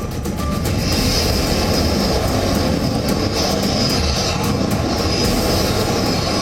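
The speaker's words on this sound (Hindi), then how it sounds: "ये लड़ाकू विमान जब उड़ान भरता है तो दुनिया देखती रह जाती है" An Indian Tejas fighter jet taking off produces a loud, continuous roaring rush that holds steady across several seconds, close and powerful with no talk over it.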